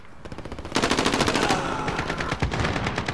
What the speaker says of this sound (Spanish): Alguien me está disparando.